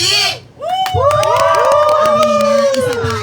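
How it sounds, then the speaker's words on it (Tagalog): A crowd at a family gathering bursts into clapping and loud cheering with shouts, following a brief spoken prompt, and stays dense and energetic to the end. "Pag tinawag ko yung pangalan, palakpakan na may sigawan."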